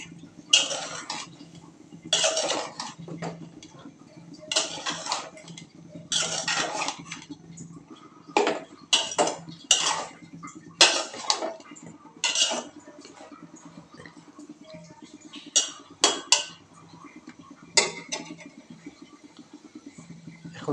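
Eggplant and potato cooking with dried fish are stirred in a pot, bursts of spoon scraping and clattering against metal coming in irregular rounds with quiet pauses between.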